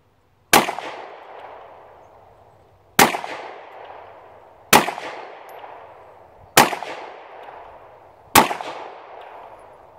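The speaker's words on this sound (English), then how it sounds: "I'm going to take five shots" Five sharp rifle shots from a Pro Series rifle with an upgraded trigger package, fired one at a time at irregular intervals of about two seconds, each a loud close crack with a short decaying ring.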